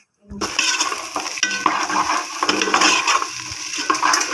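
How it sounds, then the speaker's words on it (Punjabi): A spoon scrapes and stirs salt, chilli and spices into a hot tempering in a pan for Punjabi kadhi, with clinking metal and a soft sizzle underneath, steady and close. "ਹੁਣ ਆਪਾਂ ਪਹਿਲਾਂ ਤੜਕੇ ਦੇ ਵਿੱਚ ਲੂਣ ਮਿਰਚ ਮਸਾਲੇ ਪਾਵਾਂਗੇ"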